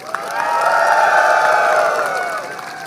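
A crowd at a traditional Bangkule Rajakng gathering applauds and cheers, a swelling roar of clapping and whoops that rises quickly, holds loud and close, then eases off slightly.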